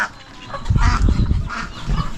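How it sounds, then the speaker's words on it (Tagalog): Chickens on a farm cluck in short, irregular bursts, fairly close, alongside turkeys, with some farmyard background noise. "Pabo at ilan yung manok."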